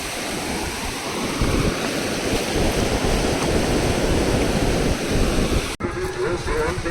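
Sea waves roll in at Digha beach, a broad continuous wash of surf mixed with wind noise on the microphone, with a brief dropout near the end and a faint voice afterward.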